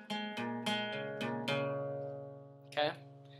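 A guitar plays the intro to a song: several plucked notes in a row, each ringing out, then a brief scrape before a final strum, close and fairly quiet.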